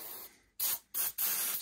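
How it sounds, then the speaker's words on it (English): Cleaning lubricant hisses out of an aerosol spray can onto tools and molding in three close, sharp bursts with short pauses between, loud and with no talking. "you can just sit here and spray away all over. Spray the molding."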